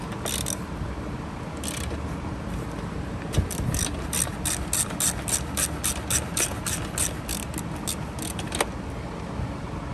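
Ratchet wrench working a spark plug loose on a Homelite 26B leaf blower, heard as a close run of rapid, evenly spaced clicks over a soft background hum, with no talking.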